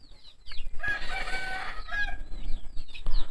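Backyard chickens from a small flock of about twenty birds cluck and squawk close by, with a rooster's crow rising in the middle, all heard alone without any talking.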